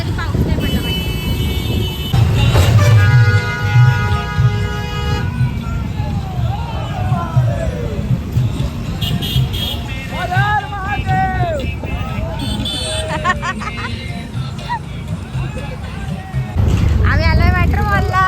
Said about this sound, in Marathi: ट्रॅफिक खूप आहे